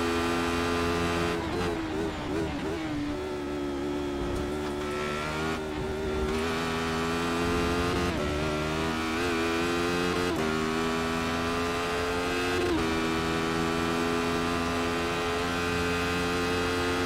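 A Radical SR8 race car in the iRacing simulator at Road Atlanta holds a steady, buzzing engine drone throughout, with brief revs and gear-change dips rising and falling over a constant tonal hum.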